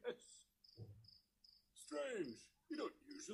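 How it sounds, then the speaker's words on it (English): A cricket chirping sound effect gives a few short, bright chirps in an even rhythm, threaded between spoken lines from a voice that talks over and around them. "You don't usually hear crickets this time of year."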